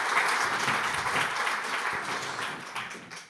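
A conference audience breaks into dense, steady applause that stays strong throughout before tapering at the very end.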